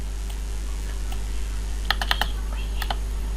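A few quick keystrokes on a computer keyboard, crisp light clicks in a short cluster over a steady low hum.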